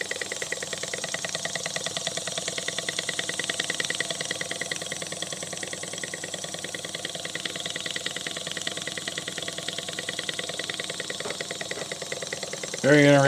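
A small flame-powered fan engine runs close by with a fast, even mechanical chugging and ticking. It keeps a steady rhythm until a brief sharper burst of noise at the very end.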